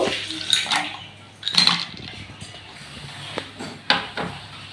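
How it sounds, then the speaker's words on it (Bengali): Ice cubes for a date lassi clink and clatter against a glass or metal container in a few sharp separate bursts, close by and with quiet pauses between them. "এখানে আমি বেশ কয়েকটা আইস নিয়েছি, এই আইসটাও দিয়ে দেব।"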